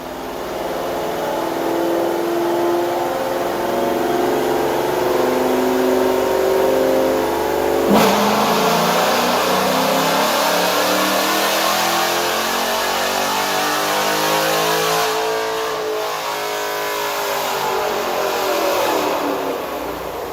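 A Chevrolet 5.7L V8 with a custom grind cam revs hard on a dyno, a loud sustained engine roar that climbs in pitch, drops sharply, then sweeps up again, with no voices.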